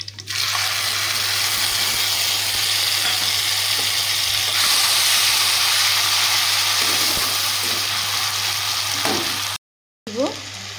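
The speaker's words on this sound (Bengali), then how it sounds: "আর দিয়ে দেবো ফোড়নে গোটা জিরে" Whole cumin and grated tomato sizzle in hot oil for palak paneer, a loud, steady frying hiss with a low hum underneath, briefly cut off near the end before resuming.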